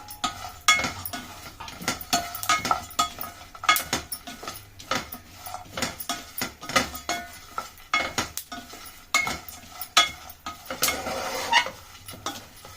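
Nuts and dry fruits with figs being roasted in a pan for children's laddu, a soft sizzle beneath repeated clinks and scrapes of a spoon against the metal pan in irregular stirring bursts, close and without talk.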